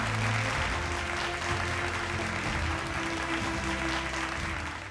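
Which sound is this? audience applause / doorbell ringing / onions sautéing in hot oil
audience applause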